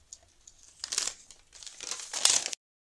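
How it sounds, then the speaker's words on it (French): Paper envelopes from a scrapbooking Advent calendar torn open and handled, two or three close crinkling, ripping bursts over a few seconds, then silence. "on va ouvrir toutes les enveloppes"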